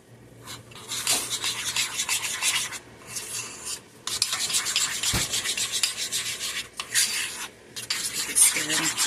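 A spoon scrapes and stirs a thick homemade peanut butter cup mixture in a bowl, with repeated rasping strokes in uneven bursts and brief pauses, close and alone.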